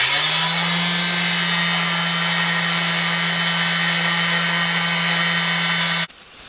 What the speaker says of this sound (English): I'm going to use this little cheap palm sander that I have